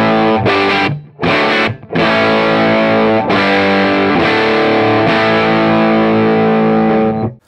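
A valve tube guitar amplifier turned all the way up roars with heavy distortion as sustained chords ring out, with brief gaps between the first strums, loud and close.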